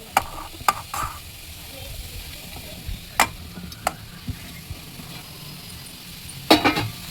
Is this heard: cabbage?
yes